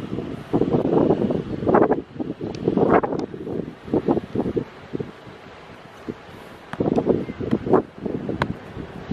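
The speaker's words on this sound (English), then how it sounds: "Does the wind affect you?" Wind blowing outdoors, gusting across the microphone in loud buffeting bursts that rise and fall in irregular waves.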